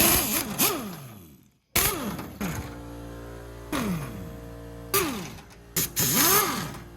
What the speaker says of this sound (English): We're gonna use this air impact to take them out.